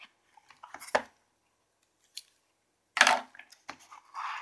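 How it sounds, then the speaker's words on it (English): A piece of tape on a razor box is broken with a few sharp close tearing and crinkling bursts, the loudest two about two seconds apart, followed by softer rustling handling. "I'm just going to break this piece of tape here."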